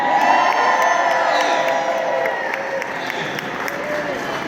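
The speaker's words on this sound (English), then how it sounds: "why don't y'all celebrate yourselves with a great big round of applause?" A crowd at a Springfield event cheers, whoops and claps loudly after being urged to celebrate themselves. The mass of shouting voices and applause stays sustained and close throughout.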